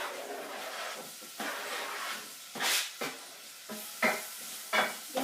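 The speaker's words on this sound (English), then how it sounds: "You can probably hear the onions frying away." Onions sizzle and hiss in a hot pan, with bursts of louder crackling as the food is stirred every second or so.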